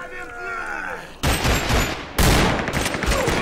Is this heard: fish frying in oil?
no